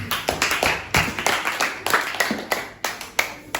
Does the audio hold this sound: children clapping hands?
yes